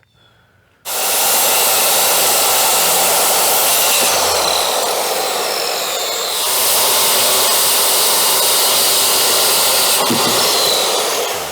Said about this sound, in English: I can just take the skill saw and cut that right off.